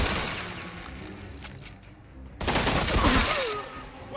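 Enemy gunfire raining down from above in the Mafia II game, a rattling spray of shots that falls away briefly and then returns in a louder, denser burst.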